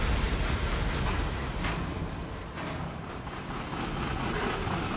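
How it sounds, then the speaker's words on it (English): A freight train's wheels creak and grind metal on metal in Train Simulator 2016, a dense continuous rumbling clatter with faint squeals, steady and fairly close throughout. "The creaking of the wheels metal on metal."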